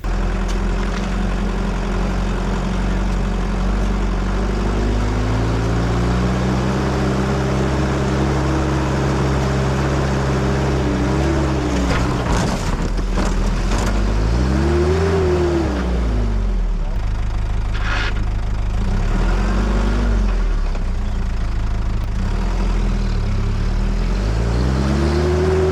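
A 4WD vehicle bogging down on a muddy track, engine droning and labouring with rising and falling revs as the suspension drags and digs in, loud and close throughout with no talking.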